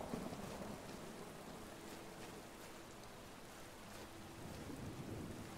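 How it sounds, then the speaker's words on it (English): Rain and thunder in the Skyrim video game, a steady broadband hiss of falling rain with low rumbling thunder underneath, continuous and moderately quiet throughout. "Another rainy day."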